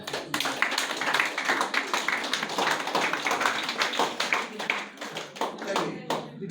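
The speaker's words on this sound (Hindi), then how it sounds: "चलिए जोरदार ताली।" Loud, brisk clapping from an audience at a DXN health meeting, dense and rhythmic with many sharp hand claps close by, fading slightly toward the end.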